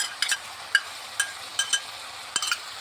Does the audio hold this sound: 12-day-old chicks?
no